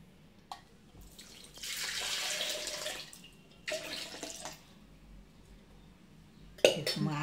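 Water is poured into a mixer jar holding butter while making homemade ghee, giving two broad splashing bursts with soft clinks of the container, moderately close and fairly quiet.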